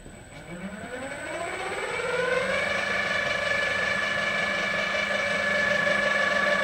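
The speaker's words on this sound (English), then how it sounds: "So you can change the RPM of the spindle whatever you want, from the minimum to the maximum." An old drill press spindle winds up from low to high speed, a whining motor tone climbing steadily in pitch over a couple of seconds before holding a loud, steady high hum.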